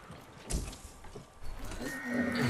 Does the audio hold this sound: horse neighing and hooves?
yes